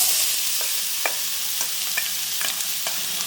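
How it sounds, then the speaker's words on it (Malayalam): Ivy gourd sizzling in hot oil with crackling mustard seeds, a steady hiss under sharp scattered pops and stirring scrapes, close and loud with no voices. "കടുക് പൊട്ടി കഴിഞ്ഞിട്ട് കോവയ്ക്ക ഇട്ട് കൊടുക്കാം."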